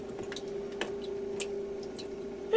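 Water splashes and drips inside a GE Potscrubber 970 dishwasher mid wash cycle, with soft scattered droplets over a steady low motor hum, heard close and quiet with no voices.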